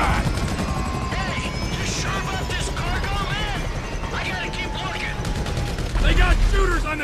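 Gunfire in the video game GTA V, rapid bursts of shots over a constant loud helicopter rotor drone, with game characters shouting through the dense action.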